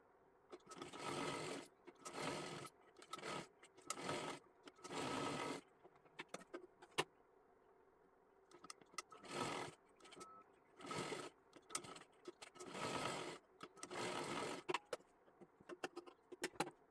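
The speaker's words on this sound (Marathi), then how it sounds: "इथे अर्धा इंच आणि डबल शिलाई मारून घ्या." A sewing machine double-stitches seams on a girl's one-piece dress in short bursts of a second or two, separated by quiet pauses, faint and close.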